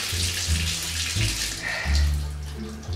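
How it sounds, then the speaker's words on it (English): Water runs steadily from a tap with a continuous splashing hiss, close and fairly loud, while lower thumps and handling noises come and go underneath. "Alright, so running water, let's go."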